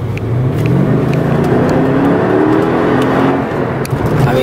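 Mercedes-Benz CLK550 with AMG package accelerating, its engine note loud and close, rising steadily in pitch over a few seconds with continuous road and cabin rumble.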